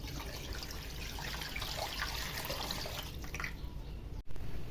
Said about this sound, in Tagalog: Lagyan natin ulit ng bagong tubig.